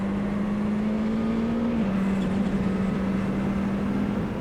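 A Courage C65 LMP2 race car engine howls in a loud, steady drone from inside the car, dipping briefly at one upshift before pulling strongly again, with no voices.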